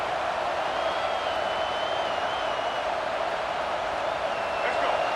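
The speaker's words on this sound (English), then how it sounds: "This crowd bringing the energy and noise early." A steady, dense roar of a large stadium crowd at a Michigan game, broad and continuous, with no clear pauses throughout.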